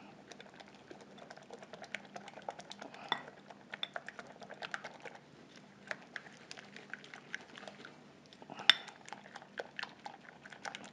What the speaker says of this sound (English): Make sure you mix it up well.